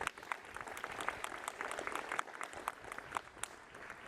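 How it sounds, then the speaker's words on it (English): Applause at the Kirksey Old Main ribbon cutting ceremony: a steady, moderately distant crowd clapping that keeps up throughout, with individual claps popping out of the dense patter. "Let's give event coordination a round of applause."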